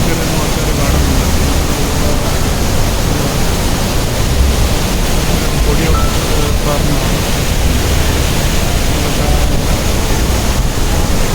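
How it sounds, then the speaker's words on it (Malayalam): The Rhine Falls pouring down after morning rain, a loud, dense and unbroken roar of rushing water that fills the whole clip at close range. "വെള്ളം ഇങ്ങനെ ആർത്തലച്ച് ഒഴുകി താഴോട്ട് പോയിക്കൊണ്ടിരിക്കുകയാണ്"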